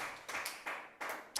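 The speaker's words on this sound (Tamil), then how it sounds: "கைத்தட்டி அல்லேலூயா" Hands clap in a quick, even rhythm during a church service, with about four crisp, close claps and no talking.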